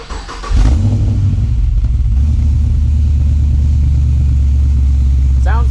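Chevrolet Caprice PPV running with aftermarket exhaust resonators and tips, starting up and then holding a loud, steady, deep idle rumble close by, with no talk over it.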